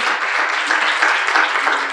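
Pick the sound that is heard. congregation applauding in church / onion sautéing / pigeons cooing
congregation applauding in church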